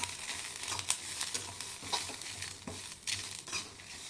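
Dry red chilies and fresh ginger fry in a pan for misal pav, a steady crackling sizzle with intermittent scraping stirs, close and moderately quiet, with no voices.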